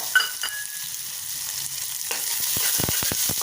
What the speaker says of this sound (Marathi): कांदा परतून घ्यायचा चांगला